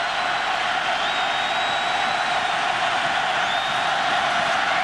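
College football stadium crowd at a 2005 Oklahoma Sooners vs Kansas Jayhawks game roaring on third down and 20, a steady, distant wash of cheering without breaks.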